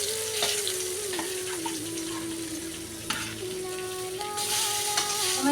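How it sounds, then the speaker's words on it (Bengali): Fish sizzles steadily in hot oil in a pan, a dense continuous crackle with a few louder spits and pops and some faint clinks, close and without talk. "মাছ ভাজা শুরু।"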